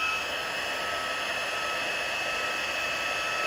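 A heat tool runs steadily and close, a continuous broadband blowing roar, as it melts embossing powder on a paper craft piece from behind.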